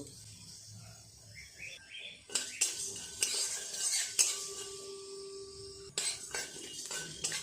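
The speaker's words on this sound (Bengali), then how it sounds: "এটাকে শুকনো খোলায় ভালো করে নেড়ে ভেজে নেব" Whole coriander, cumin, cinnamon, cloves and cardamom are dry-roasted in an ungreased pan, with a spatula scraping and clinking in bursts. Faint bird chirps come first, then a short hum joins the stirring.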